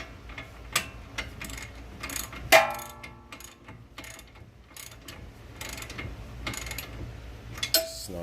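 A ratchet snugs a bolt on a Nissan Maxima front strut, giving scattered close clicks and a sharp metallic clank, quiet and unaccompanied by talk.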